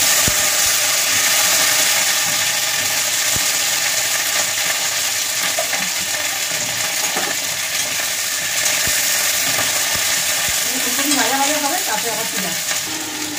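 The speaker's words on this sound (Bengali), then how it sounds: "এবার ফুলকপিটাকে আগে ভাজবো।" Cauliflower fries in hot oil in a pan, giving a loud, continuous close sizzle with scattered small pops and crackles and faint clatter toward the end, with no talking.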